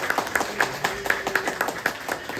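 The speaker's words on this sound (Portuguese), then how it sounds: "E vamos dar uma salva de palmas para Jesus." A church congregation at a Sunday family service clapping in a steady, even rhythm of roughly four claps per second, with a faint sustained tone and murmuring voices underneath.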